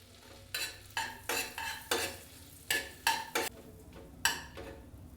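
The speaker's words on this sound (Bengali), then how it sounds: "বাটারটা মেল্ট হয়ে গেছে এবার আমি দিয়ে দেবো একটা দারচিনি স্টিক দুটো লবঙ্গ আর একটা এলাচ থেতো করা" A cinnamon stick, two cloves and a crushed cardamom pod go into melted butter in a pan for a chicken stew, with about nine sharp, close clattering stirring bursts over a faint sizzle and no voices.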